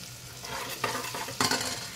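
A spice mix of turmeric and crushed peanut powder is roasted in oil for a brinjal stuffing, a close steady sizzle broken by two brief stirring scrapes.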